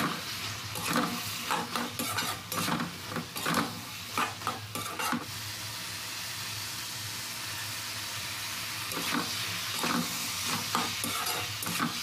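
Beans and potato curry stirred and fried in a pan, with dense repeated scraping strokes over a constant sizzle that continues on its own after the stirring pauses.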